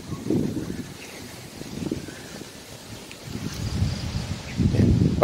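Wind gusts across a canal-side garden in Sattahip on a cool morning, buffeting the microphone with rumbling, uneven surges that build louder toward the end.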